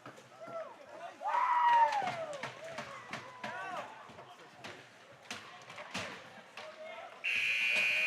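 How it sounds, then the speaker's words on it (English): A loud, sustained buzzer blares for the final second of an 18U hockey game, cutting over arena crowd noise, skate scrapes and scattered thuds. "There's the buzzer ending this one."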